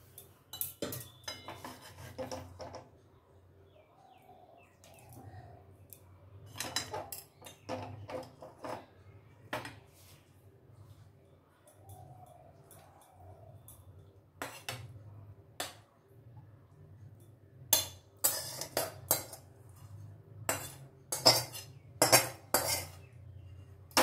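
Sajne charchori, a Bengali drumstick curry, being served onto a serving plate, with scattered clinks and scrapes of metal utensils against the dish, some brief and some in quick clusters, close by over a low steady hum.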